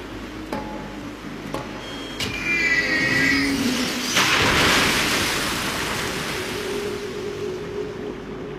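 Vehicle skimming across water in Metal Gear Solid 2: Substance, a rushing surf-like wash that swells and holds loudly for several seconds after a few sharp clanks, with no talk over it.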